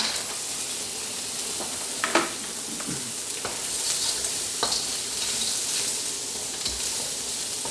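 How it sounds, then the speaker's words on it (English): Frozen prawns and peas fry in a wok at home, a steady close sizzle and hiss with a few scraping stirs and small pops. "it's about this time I put the prawns and the peas in."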